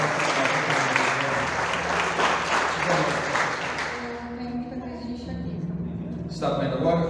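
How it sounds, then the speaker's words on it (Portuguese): A church congregation applauding during a worship conference, dense clapping for about four seconds that thins out and fades, with a voice talking over it and then a brief burst of applause near the end. "Pode aplaudir o Senhor"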